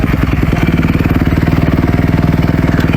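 Kawasaki KX250F dirt bike engine running steadily at a fast, even idle-to-mid pace, loud and close with a rapid pulsing thump and mechanical clatter throughout.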